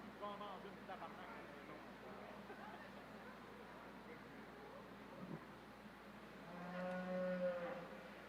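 Beef cattle mooing in the arena of a cattle show at the Expo Boeuf in Victoriaville, Quebec, a few low moos rising above a murmuring crowd, with a longer, louder moo near the end while people talk in the background.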